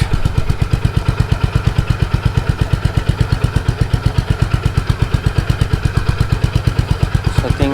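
A Honda CB350 Highness motorcycle idles close by with a steady, even thump of low engine pulses. The rhythm stays unbroken throughout, with no voices.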